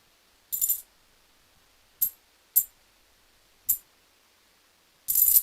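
Clad half dollar coins dropping and clinking, five short bright metallic bursts spaced irregularly over a few seconds, close and crisp against near silence, the last one longer and denser.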